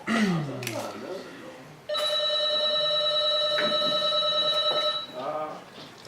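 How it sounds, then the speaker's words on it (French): A telephone rings steadily for about three seconds, loud and close, with a person talking just before and after the ring in French. "C'est un téléphone qui sonne."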